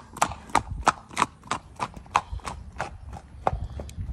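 A four-year-old horse moves along at a smooth, steady gait, its hooves clip-clopping in an even rhythm of about a dozen fairly close strikes.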